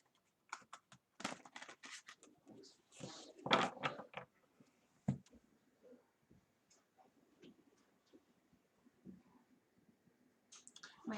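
Tarot cards are shuffled at close range in bursts of quick papery riffles and soft taps and clicks, separated by quiet pauses in a quiet room.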